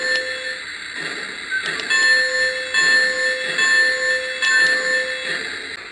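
A Polar Express toy train set's electronic bell rings in a steady repeating clang, moderately loud and close, with a hissy mechanical background and no voices.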